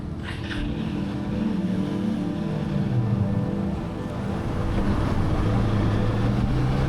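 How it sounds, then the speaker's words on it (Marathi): A ferry's engine drones steadily with a low rumble over lapping water as it docks at Mandwa near Alibag, continuous and fairly close, no voices. "बघता बघता मांडवा किनारी फेरी लागली."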